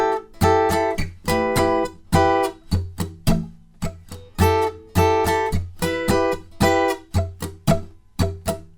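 Electric guitar playing the third bar of a song, clean plucked chords and single notes in a steady funky rhythm, close and alone.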